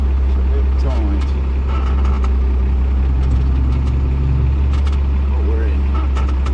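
A Ford F350 Cummins diesel truck reverses into a tight parking space, its deep, steady engine rumble loud and close throughout, with faint incidental sounds over the top.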